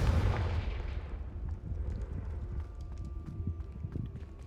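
The Confringo fire spell bursts in Hogwarts Legacy with a loud, booming blast at the start that fades into a crackling rumble and scattered debris patter.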